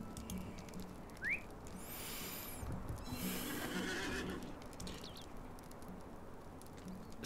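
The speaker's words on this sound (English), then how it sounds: "let me get a different horse." A horse in the Lord of the Rings Online video game whinnies once, a loud rising neigh near the start, followed by steady clip-clop hoof patter running under the rest of the clip.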